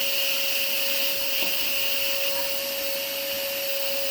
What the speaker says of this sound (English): Everybody's vacuuming.